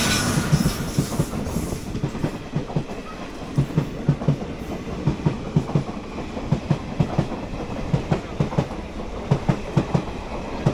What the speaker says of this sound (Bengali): তারপরে আমাদের ট্রেন ছাড়বে।